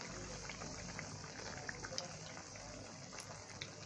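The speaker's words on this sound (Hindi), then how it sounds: "अब इसकी हम दूसरी साइड फ्राई कर लेंगे।" Bread pakora fries in ghee in a pan, turned onto its second side over low heat, giving a quiet, steady bubbling hiss with scattered small crackles.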